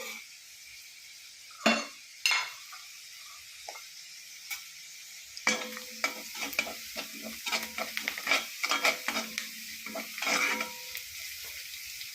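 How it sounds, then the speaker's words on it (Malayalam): Semolina roasts in a pan as a spoon stirs it, first with a few sharp knocks of utensil on metal over quiet, then a busy run of scraping strokes with a light sizzle underneath, close and without talk. "നമുക്ക് കുറച്ച് അതിൻ്റെ റവ വറുത്തും വെക്കുക"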